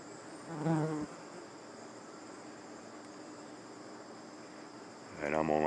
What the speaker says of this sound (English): I've got these bees crawling on my fingers because apparently I've got sugar on my fingers